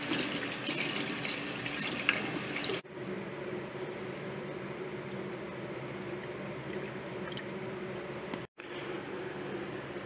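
Tap water runs steadily into a sink to refill a pet tarantula's water dish, a continuous close splashing stream that briefly stops and restarts.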